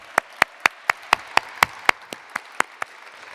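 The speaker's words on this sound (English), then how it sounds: "So give her an applause, please." Applause at a conference closing plenary, heard here as about a dozen sharp, evenly spaced single claps, close and distinct, with faint room murmur between them.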